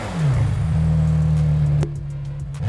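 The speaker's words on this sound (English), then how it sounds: "It gives you a very exciting exhaust note." European-spec McLaren Senna with three exhausts, a loud revving burst that holds a strong droning note, then cuts off with a crack and settles to a quieter idle, close by.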